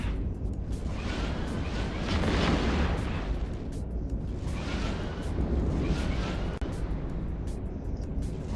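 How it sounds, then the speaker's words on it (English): Missiles pound a battleship in EVE Online as a steady, dense rumble of blasts and booms that swells and fades in waves for several seconds, with one sharp crack near the end. "Drop some extra missiles on this battleship just to get the extra DPS."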